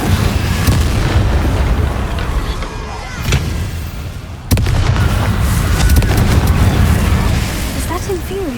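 Magical Confringo blast in Hogwarts Legacy, a loud booming explosion burst that rumbles on with dense noise, a second sharp hit midway, with game voices talking over it.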